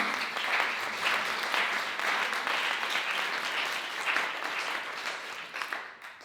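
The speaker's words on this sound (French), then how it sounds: "je vous propose de l'applaudir, de lui souhaiter la bienvenue" Audience applause welcoming a speaker at a talk on organizational transformation and coaching, sustained dense clapping from a seated crowd that swells in waves and tapers off near the end.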